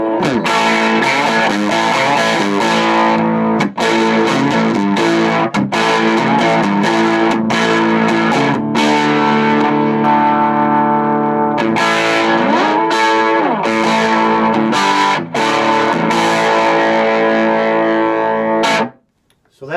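Electric guitar on its bridge pickup played through a 1960s Beltone AP-14 amplifier, a loud, continuous run of distorted chords and riffs with strummed attacks, ending abruptly near the end.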